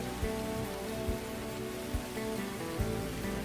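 Rain drums steadily on a corrugated zinc roof in the video game Angel's Tale, a dense continuous patter broken by a few soft, dull thumps at regular intervals, with no voices.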